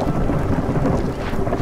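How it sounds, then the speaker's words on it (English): A thunderstorm in the video game Against the Storm, with steady loud rain and a low rumble of thunder filling the scene, and no voices. "So here comes the storm."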